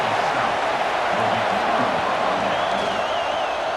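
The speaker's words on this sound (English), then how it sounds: "this crowd coming to life here, trying to help the defense get a stop" Football stadium crowd at a Southside Classic game, a steady broad roar of cheering rising as fans urge the defense on, with faint whoops and a distant whistle-like tone over the continuous din.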